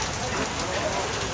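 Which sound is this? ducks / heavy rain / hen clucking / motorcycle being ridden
heavy rain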